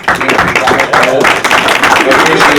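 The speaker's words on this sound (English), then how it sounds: "We need a round of applause for this lady right there." Loud applause from an audience at a ceremony for a baseball player signing with the Cleveland Indians, with cheering voices and talk mixed steadily through the clapping.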